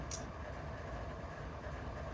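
A double-stack container freight train rolls through the San Bernardino yard in the Run 8 Train Simulator game, a faint, steady rumble of wagons with soft rail clatter and a brief high squeal at the start.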